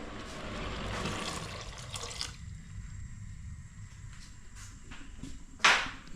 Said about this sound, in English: I think I should add water, guys.